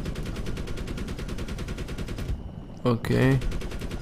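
Mortars fire in the Medal of Honor video game as a loud, rapid, evenly paced string of blasts for about two seconds. A brief pause follows, then a short spoken word.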